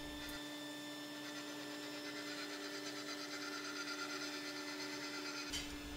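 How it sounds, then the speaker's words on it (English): A tool post grinder spinning around 6,000 RPM trues an abrasive wheel against a diamond dresser on a Benchmaster mill, a steady high whine with a faint gritty hiss, starting and stopping abruptly. "Let's get our abrasive trued up against a diamond dresser."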